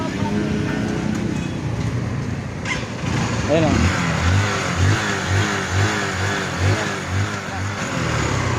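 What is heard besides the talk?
motorcycle engine running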